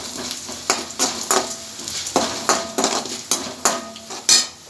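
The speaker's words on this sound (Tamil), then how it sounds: "கடுகு, கொஞ்சம் உளுந்து, கொஞ்சம் கடலைப்பருப்பு, பட்டை மிளகாய் போட்டுக்குவோம்." Mustard seeds, urad dal, chana dal and dried chillies frying in hot oil for a raw jackfruit curry, a soft sizzle under repeated sharp metallic scrapes of a spoon stirring the pan in a steady rhythm.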